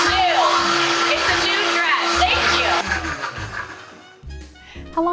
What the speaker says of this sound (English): How long do you blend it for?